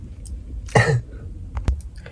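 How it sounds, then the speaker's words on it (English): A man gives one harsh, close cough, followed a moment later by a shorter, sharper second cough against quiet room background. "I got a cough too"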